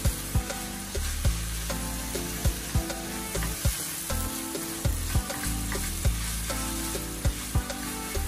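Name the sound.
stirring food frying in a pan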